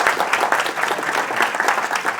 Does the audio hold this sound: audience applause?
yes